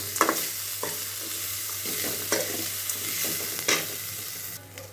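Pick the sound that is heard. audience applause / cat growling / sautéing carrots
sautéing carrots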